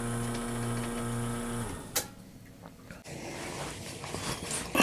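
A dental lab vacuum mixer hums with a steady mechanical drone and rhythmic pulsing while mixing dental stone, then cuts out with a click, leaving quieter rattles and handling noises.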